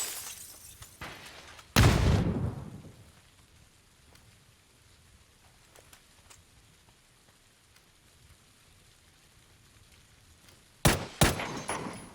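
Bursts of automatic gunfire in PUBG, a dense loud volley near the start and two more sharp bursts near the end, with scattered faint shots between and no talk.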